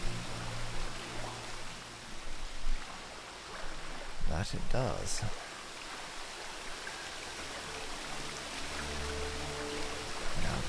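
Water flows steadily in The Witcher 3, a soft, continuous stream-like rush that swells and fades beneath a brief spoken remark and a couple of sharp bursts in the middle.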